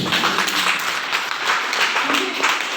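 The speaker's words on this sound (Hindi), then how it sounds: "एक बार तालियां होनी चाहिए उनके लिए" A crowd applauds audience members at a motivational business seminar, producing a loud, continuous wash of clapping that stays steady from start to finish.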